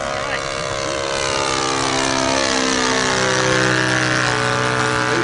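A radio-controlled model float plane's engine drones with a steady, buzzing tone that slowly shifts in pitch as it flies at a float-fly event, loud and continuous with people talking faintly underneath.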